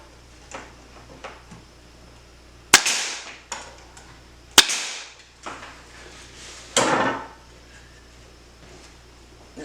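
Staple gun driving staples to join wooden boards for a candyboard frame, about three sharp, loud snaps spaced a couple of seconds apart over lighter knocks and handling noise.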